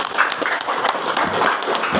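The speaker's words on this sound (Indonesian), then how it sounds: "Tepuk tangan dulu." Applause from a crowd at a village head candidate number draw in Masago, a dense steady patter of many hands clapping throughout the short burst.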